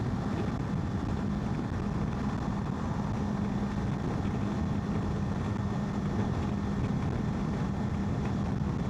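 A Kawasaki KLE 500 motorcycle climbs a hill at a steady speed in fifth gear, heard as a continuous low engine drone that is heavily masked by the roar of wind buffeting the microphone, with no talking.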